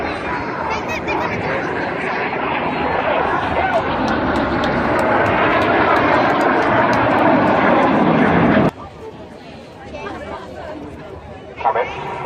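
Red Arrows jets flying the Winkle Roll at the Herne Bay airshow, a loud sustained jet roar over crowd chatter that cuts off abruptly, leaving murmuring voices.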